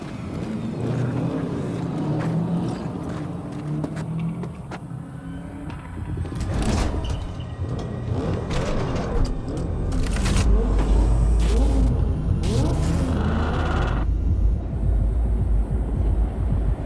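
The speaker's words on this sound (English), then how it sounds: "Start your engines, folks." Car engines of a convoy in the video game Cyberpunk 2077, a rumbling chorus of engines starting and building in strength, with door clunks and mechanical noises along the way, growing louder toward the end.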